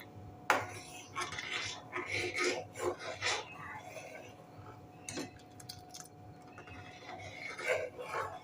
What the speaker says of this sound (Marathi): आता हे चांगलं ढवळून घेऊया